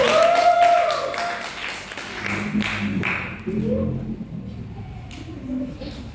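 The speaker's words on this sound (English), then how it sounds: "Give a clap." A short burst of audience clapping at a student talk-show debate on being child-free opens the clip, then thins out as voices and room noise take over.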